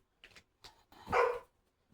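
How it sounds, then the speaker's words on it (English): A dog wanting to be let into the house gives a few short, muffled woofs and then one louder bark, all close by and fairly quiet, with silence between. "Sorry, the dog wants in."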